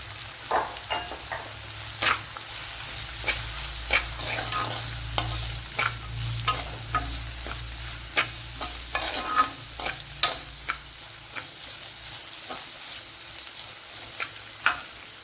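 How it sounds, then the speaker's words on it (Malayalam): Sliced onion frying in a pan for a Kerala-style vaala fish curry, with a steady low sizzle under repeated sharp scraping strokes of a spoon stirring at an uneven rhythm, close and fairly quiet, no voices. "ഇനി ഇതിലേക്ക് ചെറിയൊരു സവാള എടുത്തിട്ടുണ്ട് അതും കൂടെ ചേർത്ത് കൊടുക്കുക"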